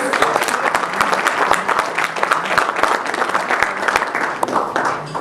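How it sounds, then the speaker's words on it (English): A crowd applauds at a commemorative event before a poem is performed, loud continuous clapping filling the whole stretch with faint voices underneath. "Should we give them an applause?"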